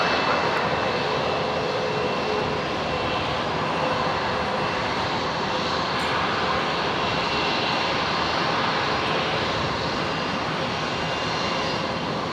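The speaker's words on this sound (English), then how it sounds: "this was the very first Max 8 delivered in Virgin Australia's fleets" Virgin Australia Boeing 737 Max 8 jet at Brisbane International Airport, a loud, sustained engine roar that stays even from start to finish with no voices.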